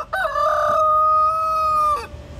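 A rooster crows once on a castle-side farm, a loud, close, drawn-out cock-a-doodle-doo lasting about two seconds that then falls quiet; no talking.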